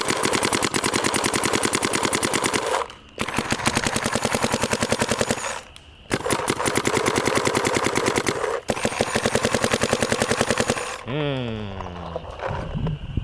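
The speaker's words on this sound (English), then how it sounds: "So my first impressions, shot quality between these two, is that the DSR Pro is actually a little bit snappier than the Geo R5" Dye DSR Pro and Planet Eclipse Geo R5 paintball markers fired in long rapid strings, a loud, close, steady machine-gun-like rattle broken by short pauses, then a voice begins talking.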